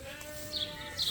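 A sheep bleats on a farm pasture in spring. One short, faint bleat sounds over quiet outdoor background, with no voices.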